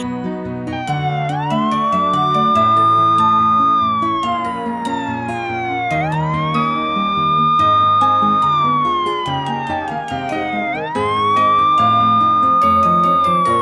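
A loud ambulance siren wails in long rising-and-falling sweeps, repeating three times over background music with occasional chiming tinkles.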